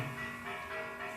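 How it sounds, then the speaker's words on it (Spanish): Church bells ring on the feast day of the Virgin of Guadalupe, a steady sustained peal with no voices over it. "si se escucha de fondo las campanadas, los cohetes, es porque es el día que están celebrando a la Virgen de Guadalupe"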